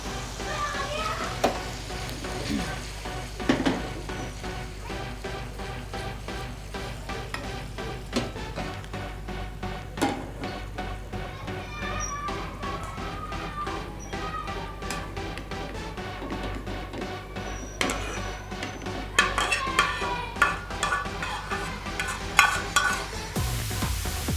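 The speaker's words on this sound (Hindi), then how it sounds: "दाल को तड़का लगा दिया" Steady, close sizzling of hot oil and spices in a pan as dal is tempered, with occasional crackles and stirring clatter throughout.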